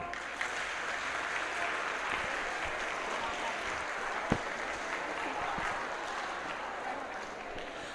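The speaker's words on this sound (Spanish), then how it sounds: "Vamos a ver, denme un aplauso." Audience at a catechesis congress clapping, a steady, fairly faint wash of applause from a large hall with a single sharper clap standing out midway.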